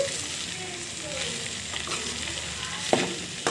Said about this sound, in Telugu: ఇలా బాగా ఫ్రై చేసుకోవాలి మేమైతే ఎక్కువ ఆయిల్ని వాడమండి